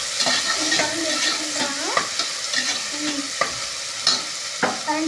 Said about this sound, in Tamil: கரண்டி எடுத்து கிண்டுறாங்க.